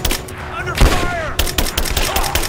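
Gunfire in the video game Rise of the Tomb Raider, a loud, close fusillade of sharp repeated shots and bursts, mixed with shouted combat voices and falling whistling tones.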